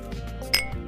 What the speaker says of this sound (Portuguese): enquanto isso, o veterano bateu levemente seus copos.